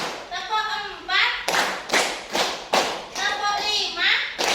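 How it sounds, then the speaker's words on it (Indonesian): Schoolchildren in a classroom clap in rhythm, with groups of sharp, close claps in a counted pattern between short pauses. Children's and a teacher's voices can be heard alongside. "kita akan tepuk dulu biar semangat ya"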